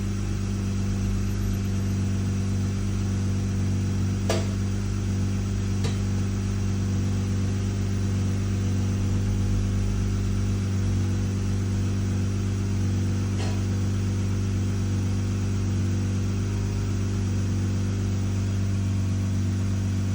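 A BMW X5 G05 with a B58 engine and a faulty fuel tank breather valve idles steadily, a constant low hum with a few faint clicks, close by and unchanging throughout.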